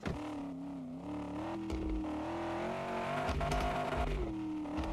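A video game car engine in Dealer Simulator hums and revs steadily, its pitch rising and falling as it accelerates, loud and continuous throughout.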